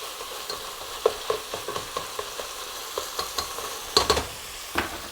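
Hamburger meat browning in a pan, a steady low sizzle with scattered crackles and pops and occasional stirring scrapes, close and moderately quiet with no talk.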